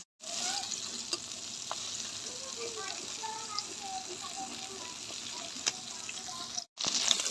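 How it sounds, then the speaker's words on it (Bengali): Steady crackling sizzle of fish frying in hot oil, with occasional stirring scrapes, continuous and fairly loud before a brief cut near the end. "মাছগুলো আমি ভেজে নেব"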